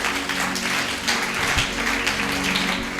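A church congregation at a spiritual retreat applauds in praise of the Lord, a steady wash of clapping that fills the room for the full stretch, with musical tones underneath.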